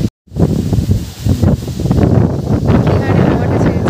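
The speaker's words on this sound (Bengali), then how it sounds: "দেখো কি জোর হাওয়া দিচ্ছে, দেখো গাছপালাগুলো।" Strong storm wind gusting through trees, a loud, continuous rushing and rustling roar that buffets the microphone after a brief silent start.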